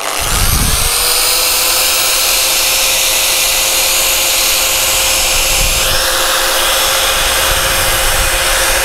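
An angle grinder cuts into the rear section of an XSR 700 motorcycle with a loud, continuous high whine that shifts pitch about two-thirds of the way through, with no voices.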